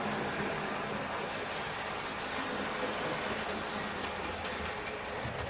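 A Bachmann S&D 7F model steam locomotive (13810) runs along its track with a steady, continuous rolling rumble and hiss, close and even throughout, with no talking.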